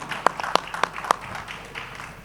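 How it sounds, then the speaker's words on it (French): Applause at a press conference, with a few loud, distinct hand claps standing out over a softer bed of scattered clapping from the room. "Donc j'aimerais bien qu'on les applaudisse."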